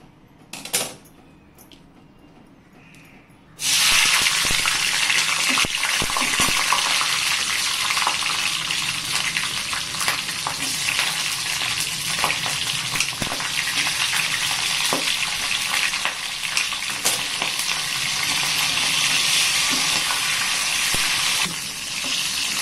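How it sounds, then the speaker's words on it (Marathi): Large green chillies, cut in half, fry in hot oil. After a few seconds of quiet handling sounds, a loud, dense, continuous sizzle begins and holds steady with occasional crackles, close up and with no speech. "तर या हिरव्या मिरच्या आहेत, या मी तेलामध्ये तळून घेते"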